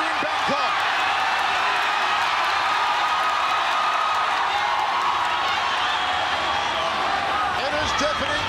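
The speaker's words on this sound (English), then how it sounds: "This crowd going nuts here in Bangkok." A packed arena crowd in Bangkok roars without pause through an atomweight MMA bout, a dense and loud wall of cheering. A commentator's voice runs over the top of it.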